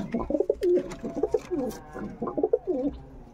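A female Panja pigeon coos in a series of soft, throaty, repeated burbling phrases, close and clear against a quiet background.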